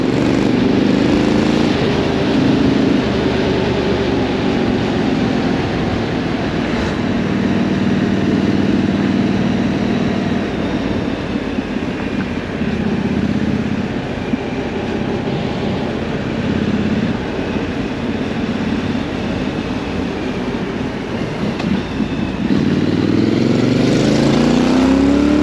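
A Triumph Scrambler 900 motorcycle engine pulls steadily while riding, a loud continuous drone with wind rush that swells and eases as the bike accelerates, rising sharply in pitch near the end.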